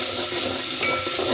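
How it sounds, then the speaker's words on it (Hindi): A spice paste with chili and ginger is fried and stirred in a pan for a potato yogurt curry, giving a continuous close sizzle with faint scraping of the stirring utensil, no voices. "अब देखिए इसको मिर्च और अदरक के साथ इसको अच्छे से भून लेंगे।"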